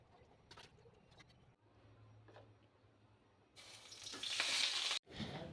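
Tengra fish frying in mustard oil in a wok: a quiet start with faint low hum, then a loud, close hissing sizzle bursts in and continues, cut by a brief pause.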